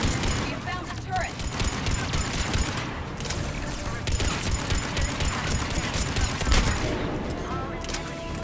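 Steady stream of turret gunfire during a Mass Effect 3 battle, continuous and moderately loud, with game voices talking over the rattling shots throughout.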